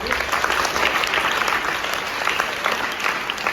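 Sustained applause from an audience for Sajiya at a school gathering, a dense steady wash of many hands clapping at moderate loudness throughout, with faint voices mixed in.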